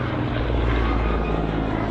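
Pitts Model 12 aerobatic biplane with a Soviet radial engine performing at an airshow, a loud, dense, continuous roar of engine and propeller close by with no break.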